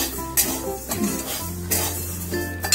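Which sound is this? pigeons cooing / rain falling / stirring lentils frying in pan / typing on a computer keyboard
stirring lentils frying in pan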